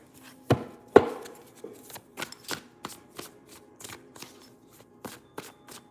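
A deck of tarot cards is shuffled in a series of quick, soft riffling bursts and taps, close and fairly quiet, with no talk.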